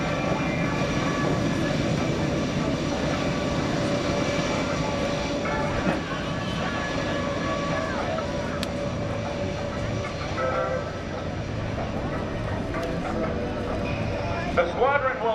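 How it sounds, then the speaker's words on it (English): Six GEICO Skytypers aircraft drone overhead at a 2016 naval air station airshow, a steady, broad engine roar that holds for the whole stretch while a loudspeaker announcer talks over it. "Watch as all 6 aircraft separate to visually check all quadrants."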